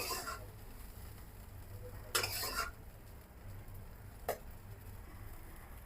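Thankuni leaves frying in a pan, a quiet steady sizzle broken by a few brief louder scrapes of stirring, close and with no voices.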